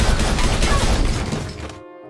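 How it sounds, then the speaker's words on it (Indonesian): Dense burst of gunfire and crashing explosions from an action scene in the film Hitman, loud and continuous for nearly two seconds before cutting abruptly to a faint, hollow tail. "Brian harus berhadapan lagi dengan para anak buah Yuri hingga terjadi aksi tembak-tembakan"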